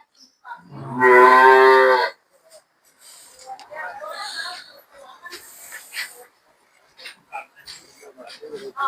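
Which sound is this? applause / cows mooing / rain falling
cows mooing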